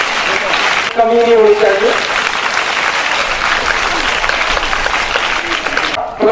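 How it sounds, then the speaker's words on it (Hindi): Audience applause for a student drama team at a theatre event, steady dense clapping filling the whole stretch while a voice speaks over it, rising briefly at the start and end. "तो अब इन बच्चों को ये तालियों में कंजूसी ना हो"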